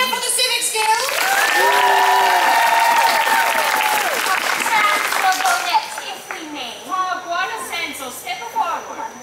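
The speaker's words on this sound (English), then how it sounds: "A cheer for the Civics Guild!" Crowd at a Renaissance faire court cheering and applauding for a guild, loud sustained clapping with whoops and tonal calls, easing off toward the end as a few voices carry on.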